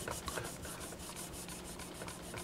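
Metal part from a 1966 Ford Thunderbird Motorola AM 8-track unit being scrubbed with a non-abrasive oxidation cleaner, steady back-and-forth rubbing strokes in an even rhythm, close and fairly quiet, with no talking.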